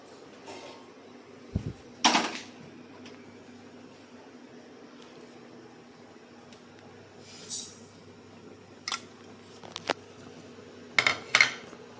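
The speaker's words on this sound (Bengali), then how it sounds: "আচ্ছা, শুকনো খোলা নেড়ে নিই।" Cumin, fennel, fenugreek and mustard seeds are dry-roasted in a pan, giving faint, sparse scrapes and metallic clinks from stirring, a few sharper knocks spaced apart over quiet background hum, with no talking.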